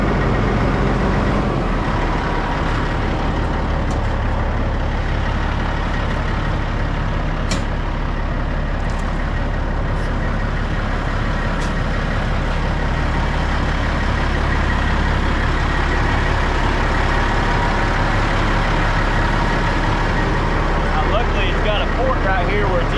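An old Kenworth truck idles with a steady, loud low diesel rumble that holds constant and close, with no break in the engine note.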